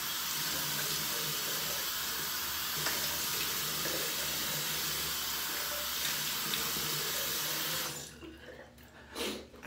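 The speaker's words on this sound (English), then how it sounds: "Go ahead and splash some water on the face." Water runs steadily from a sink tap while splashed onto the face during a shave, a constant broadband wash that stops abruptly near the end, leaving a few faint drips and handling noises.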